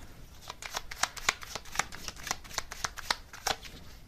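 Tarot cards being shuffled and handled, a rapid run of crisp papery flicks and riffles close by, steady throughout with no voice over it.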